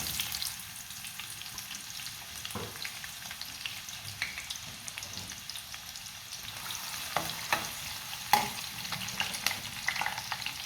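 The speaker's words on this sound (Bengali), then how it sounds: "তেলটা গরম হয়ে গেছে, এখন আমি এখানে পেঁয়াজ দিয়ে দিচ্ছি।" Onions frying in hot oil: a steady crackling sizzle with occasional sharper pops and stirring scrapes, close and continuous, with no speech.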